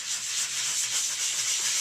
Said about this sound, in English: I'm going to take a sanding block, and I'm just going to start going in a circular motion